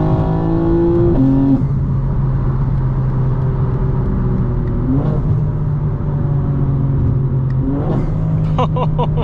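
A modified 2025 BMW M4 Competition xDrive downshifts repeatedly while driving, each blip sending engine revs sharply up before settling into a loud, steady drone, heard from inside the car.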